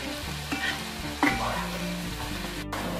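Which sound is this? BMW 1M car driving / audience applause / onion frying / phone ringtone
onion frying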